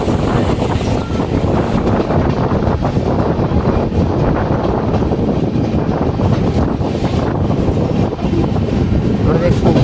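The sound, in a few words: Uday double decker express train entering railway station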